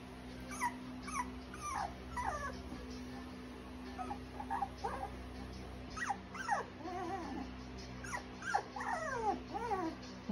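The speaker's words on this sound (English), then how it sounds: "What a puppy." A puppy whimpering and growling up close, with high thin whines and squeaky yips mixed with low grumbles, in irregular bursts over a quiet indoor background with a faint steady hum.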